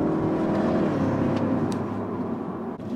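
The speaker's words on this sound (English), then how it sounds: "Yeah, it does pull you up this hill nicely. What a little engine that B48 is" BMW G21 3 Series with the B48 engine pulling up a hill, a steady droning engine and road hum heard from inside the cabin, even and continuous without talk.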